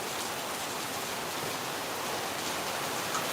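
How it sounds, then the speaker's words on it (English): Heavy rain pouring down in Phnom Penh during the rainy season, a dense, steady hiss with no pauses. "now it's raining like crazy."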